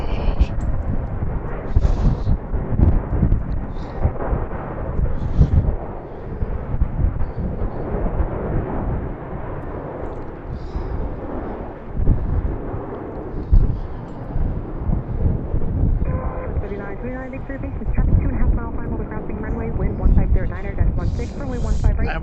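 A Southwest airliner takes off from BWI airport on a windy day, its jet engines giving a broad, rising low roar that stays loud under heavy wind buffeting on the microphone, with someone talking over it.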